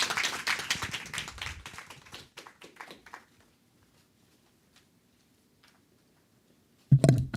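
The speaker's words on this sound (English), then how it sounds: "let's give them a round of applause" An audience applauds presenters at the end of a Penn Grad Talks event: dense clapping fades over about three seconds to near silence, then a fresh loud burst of claps starts near the end.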